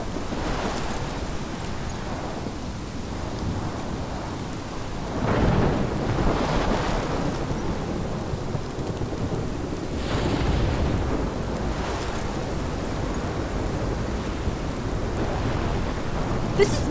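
A video-game thunderstorm in Life Is Strange, with heavy wind and rain rushing steadily and deep thunder rumbles swelling loudly at several points, no talk.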